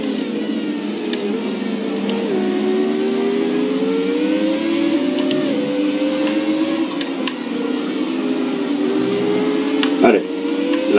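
A 2006 Renault Formula 1 car's engine in the racing video game F1 2017 drones steadily at high revs, its pitch rising and dipping slightly through gear changes. A sharp click lands near the end.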